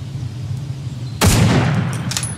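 A single distant gunshot in the horror game Folklore Hunter, a sharp crack at about the midpoint that rings out into a long, fading rumble over a steady low ambient drone.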